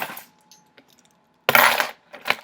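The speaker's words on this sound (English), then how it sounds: "Yes, I have a lot of keys." A ring of many keys jingles and clinks up close: a brief rattle at the start, a few scattered light taps, then a louder burst of metallic jangling and a final shake.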